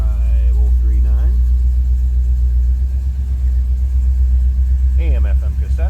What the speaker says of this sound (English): Be able to hear that little rumble out of that exhaust.